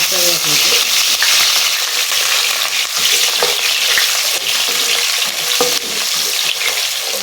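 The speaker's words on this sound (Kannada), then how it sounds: "ಸ್ವಲ್ಪ ಫ್ರೈ ಆಗಲಿ ಒಂದು ಈರುಳ್ಳಿ ಕಟ್ ಮಾಡಿ ಇಟ್ಕೊಂಡಿದ್ದೀನಿ ಈರುಳ್ಳಿ ಹಾಕ್ತಾ ಇದ್ದೀನಿ" Onion goes into hot ghee with cashews, frying in a pan with a steady loud sizzle and occasional stirring scrapes throughout.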